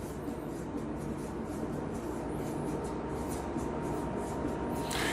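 Pen or marker writing on a board during a calculus lesson on derivatives, a steady scratchy stroke sound running continuously, close and moderately loud over a constant background hum, with no talking.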